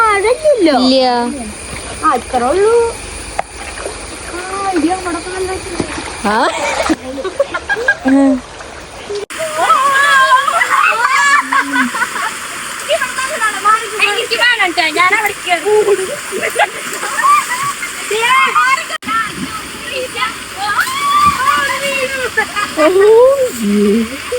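Water splashes and sloshes in a small stream while people talk and call out loudly over it, the splashing coming in uneven bursts close by.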